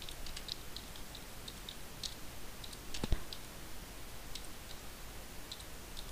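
Sparse, light clicks of someone typing a file name on a computer keyboard while scanning a document, faint and irregular over a steady background hiss, with one sharper tap near the middle.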